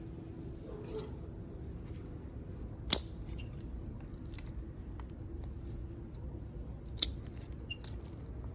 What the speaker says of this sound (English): I gently use scissors to remove old, wilted leaves and spent flowers